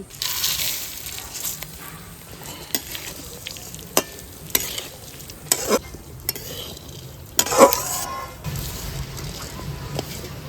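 Washed, drained rice frying with raisins in a pan hisses and sizzles steadily while a utensil scrapes and stirs, giving several sharp clinks and scraping bursts close by.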